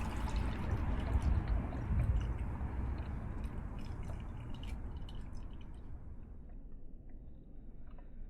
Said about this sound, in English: We're going to strain it now.